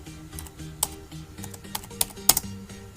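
Someone types a MySQL select command on a computer keyboard, a scatter of light key clicks at an uneven pace, fairly faint and close, with a soft hum beneath.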